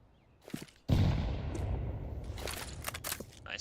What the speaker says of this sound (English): Nice frag grenade there by Zero Fix